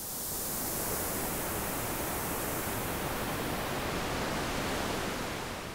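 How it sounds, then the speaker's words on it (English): White noise passed through the middle tone filter of an EMW Noise Station, a constant dense hiss with a rounded, shaped tone, steady and loud throughout with no other sounds. "This middle tone filter, again, I'm just going to put white noise through it."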